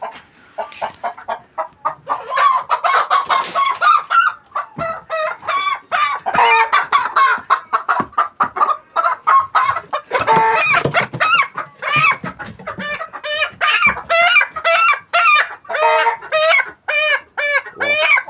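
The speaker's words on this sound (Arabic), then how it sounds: "وبتحس ان الديك بيبدا يشتغل على طول، بيشتغل بسرعه" Rooster crowing repeatedly among backyard poultry, loud and close, its calls mixed with rapid clucking from nearby chickens in a steady busy stream.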